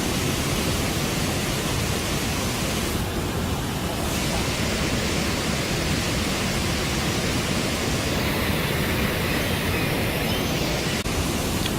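A waterfall at a bear salmon-fishing site rushes in a continuous, even roar of falling water, steady and broad throughout with no pauses.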